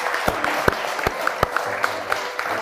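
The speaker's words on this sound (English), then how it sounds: "How about a round of applause for Jerry Koenig" Sparse, scattered clapping from a small gathering honoring an Instructor of the Year, with a few distinct sharp claps standing out over a low murmur of crowd noise.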